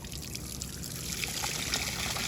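Water trickles and flows steadily into a newly built fish pond being filled, a soft continuous stream heard faintly with no voices.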